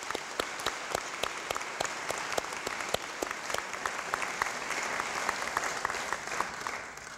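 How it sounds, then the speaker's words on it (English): Audience applause at a dental school white coat ceremony, steady clapping from a large crowd with sharp individual claps standing out, sustained loudly throughout without talk. "Audience, please join me in a round of applause for our faculty."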